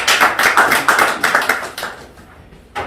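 A seminar audience claps together during a motivational talk on success and courage, a burst of rhythmic, fairly close hand claps that rises in uneven pulses and then thins out before a final single clap.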